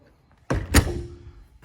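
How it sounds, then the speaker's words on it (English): An RV entry door fitted with a newly installed keypad lock shuts with a single solid thunk and a short latch rattle, close and alone after a near-silent start. "Door shuts well"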